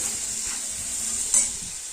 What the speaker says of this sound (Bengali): লাল লাল করে ভাজা ভাজা করব